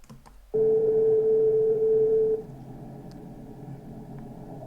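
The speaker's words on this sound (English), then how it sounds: "That's the phone ringing." A steady electronic telephone tone sounds for about two seconds, loud and sustained, then cuts off, leaving a low background hum.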